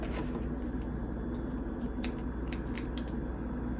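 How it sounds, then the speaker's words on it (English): Repeated crisp snips of shears cutting through something, close by, scattered over a steady low background rumble. "You just put one edge of the shears or scissors in there and cut across"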